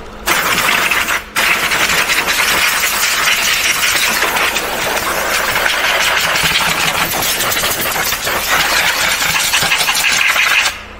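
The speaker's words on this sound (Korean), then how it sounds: "엔진 웜업 좀 시킨 다음에" A 5.0-litre Genesis EQ900 engine runs continuously at a steady, rumbling idle nearby while warming up, with a brief dip early on before settling into an even drone.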